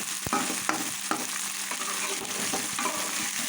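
Onions fry in a pan for a fish curry, hissing steadily while a spatula knocks and scrapes against the metal in a loose rhythm of sharp clicks.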